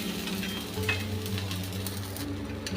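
Tomatoes fry in a pan with a steady, continuous sizzle while a utensil stirs them now and then, close and fairly even in loudness throughout.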